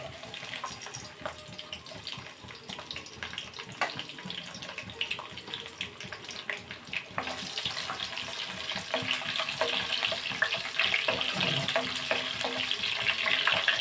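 Garlic dropped into hot oil for a Telugu pumpkin curry sizzles steadily and close, the crackling growing denser and louder partway through as it fries.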